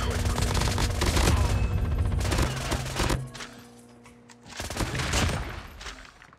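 Rapid automatic gunfire in the mobile shooter Call of Duty Mobile, dense continuous bursts that pause briefly and then resume loud and close.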